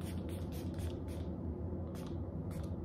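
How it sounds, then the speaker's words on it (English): Short hissing bursts of makeup setting spray, several quick pumps spaced irregularly through the clip, close to the microphone over a steady low room hum. "now we're gonna do some setting spray"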